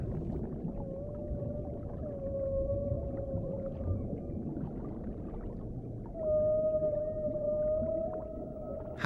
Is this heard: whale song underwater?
yes